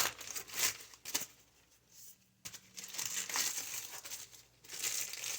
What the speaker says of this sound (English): We close the foil.